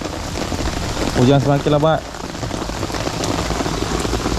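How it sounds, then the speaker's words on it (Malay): Heavy tropical downpour during a fishing trip, a dense constant hiss of rain drumming on surfaces, close and steady, with a brief burst of a voice near the start. "Hujan semakin lebat geng."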